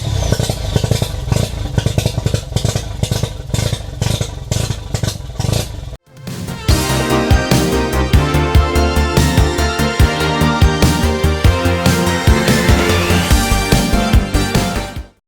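A Mazda RX7 FC3S rotary engine cranks with a rapid clattering starter rhythm, then catches and settles into a loud, steady, busy idle with a dense mechanical chatter, close to the car.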